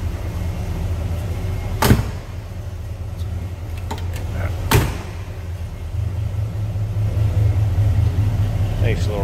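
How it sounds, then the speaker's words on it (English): A deep, steady 350 V8 engine idle rumbles low and continuous from the exhaust of a 1968 Chevrolet Chevelle Malibu convertible, with a couple of brief thumps and a voice briefly audible over it. "Nice little rumble coming out of that 350."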